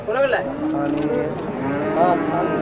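A cow at a heifer cattle market in Sangola gives a couple of loud, close, drawn-out moos with crowd murmur behind.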